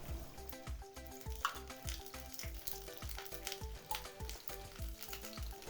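Ghee heats and sizzles in a small tadka pan on a gas stove, a steady close crackling fry with faint rhythmic ticking and no talking.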